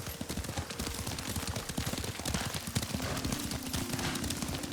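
Steady clip-clop of horse hooves at a trot in the video game Ghost of Tsushima, fairly close, with a dense rumble of outdoor game ambience and faint low tones underneath.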